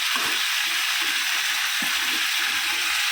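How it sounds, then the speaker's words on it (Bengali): Green chilli and onion tempering for a fish curry sizzling in a little oil, a dense continuous hiss with faint clinks and stirring beneath. "কাঁচা লঙ্কা, পেঁয়াজ, আর কিছু না, মাছের ঝালের ফোড়ন।"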